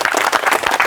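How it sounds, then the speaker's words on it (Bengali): Audience at a weightlifting challenge applauding, a short burst of dense, loud clapping from a crowd close by. "আমাদের এই একটি জোরে করে করতালি হয়ে যাক।"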